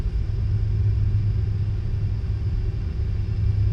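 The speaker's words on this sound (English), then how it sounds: "And reverses can also be in. Alright, so 4 hours and 51 minutes. Let's brake a little bit more." Steady low rumble of a Boeing 747 slowing on its landing rollout in the Prepar3D flight simulator, a continuous deep drone at even loudness with no talk.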